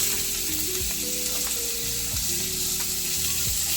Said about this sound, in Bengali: অল্প একটুখানি তেল দিলাম একটু অল্প একটু রসুন কুচি দিলাম দিয়ে নেড়ে ঝেড়ে নিলাম এবার পেঁয়াজ কুচিটা দিয়ে দিলাম